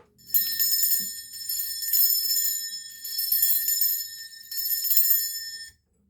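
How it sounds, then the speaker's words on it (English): A bell is rung for space cleansing in a quiet room, four sustained shimmering strikes in a slow, even rhythm, clear and close with long ringing decay between them. "I'm going to be ringing this bell. This is just to cleanse the space around us."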